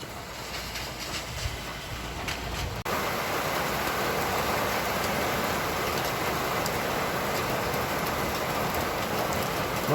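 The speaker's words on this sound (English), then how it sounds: "It's not raining heavy, it's a drizzle of rain, but it's raining." Light drizzle patters steadily on a busy street on a wet afternoon, a soft, even hiss that carries on without a break after a brief quieter opening.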